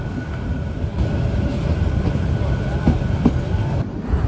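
Aboard the Sagorika Express entering Gunabati station, a steady low rumble of the moving train carriage fills the air, with faint rattles and a few light knocks over the continuous drone.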